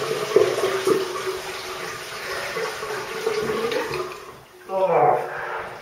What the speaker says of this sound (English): So just rinse off.